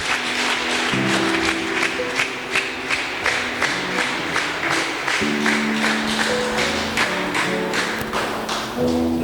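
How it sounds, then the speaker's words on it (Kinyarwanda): A church congregation at a bishop's installation ceremony claps in a steady rhythm, loud and continuous throughout, with tuneful sustained tones sounding underneath the clapping. "dukomere Imana yacu amashyi menshi."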